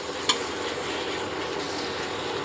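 Biryani masala and tomatoes sautéing in a pot, a steady close sizzling frying hiss throughout with one brief scrape of a stirring spoon near the start.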